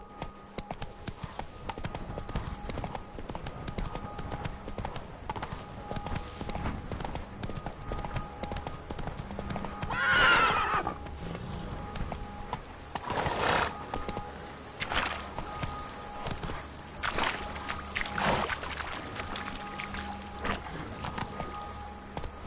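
Horse hooves clip-clopping steadily over rough ground, close and continuous, with occasional louder thuds and scrapes mixed in.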